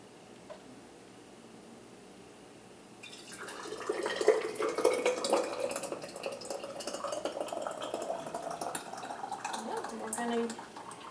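Homemade oven-roasted marinara is poured into a canning jar, a soft, thick, wet pour that starts a few seconds in and runs steadily to the end. Light speech-like sounds blend in faintly.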